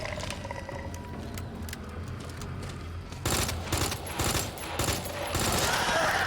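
Gunfire in the survival horror video game Resident Evil 2, a burst of loud repeated shots in the second half over a dense, rumbling game soundscape.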